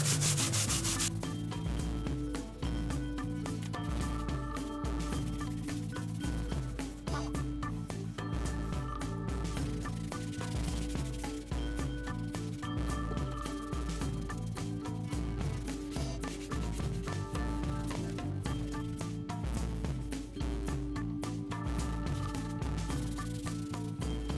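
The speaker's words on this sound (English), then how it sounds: "And then you just use the bag and start cleaning your poster." An eraser-dust bag rubs across a paper poster in a steady, continuous scrubbing hiss, quiet and close, with no talk.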